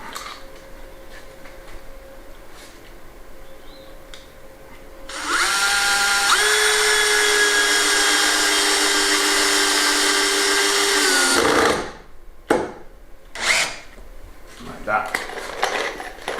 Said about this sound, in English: give it a moment to bond a little bit and then fire some screws in it